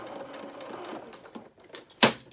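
A sewing machine stitches down the side seam of a lined doll jacket with tails, a soft close whirring run that slows and stops, followed by one sharp click near the end.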